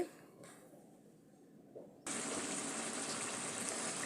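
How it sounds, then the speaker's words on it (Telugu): Water gushes from a glass into a pot of mutton curry cooking in a home kitchen. Faint sounds come first, then a steady pouring rush fills the second half. "ఇప్పుడు ఒక గ్లాసుడు వాటర్ పోసుకొని ఇంకొక ఐదు నిమిషాలు అలా ఉడికించుకుంటే"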